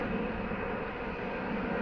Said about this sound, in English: underneath the flight path for Heathrow. I can't tell if they're arriving or departing.